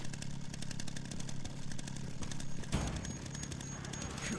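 Chainsaw engine revving and clattering in the Resident Evil Requiem video game, a loud continuous motor drone with a rough idling rattle, mixed with game sound effects and no talk.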